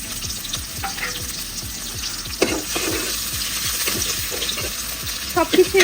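Chopped onion frying in hot oil in a home kitchen pan, a steady close sizzle running throughout with occasional stirring scrapes and clinks.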